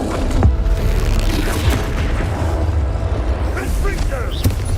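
Repeated booming fire blasts from the Confringo spell in the video game Hogwarts Legacy, loud and dense with crackling bursts, under a voice shouting spell names.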